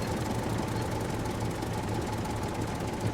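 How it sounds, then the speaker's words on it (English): Tractor engine in the survival video game SCUM, a steady, low rumbling drone with a faint knocking pulse, running continuously and evenly with no voices over it. "I picked up my tractor and I'm on the way back to where our new camp's going to be"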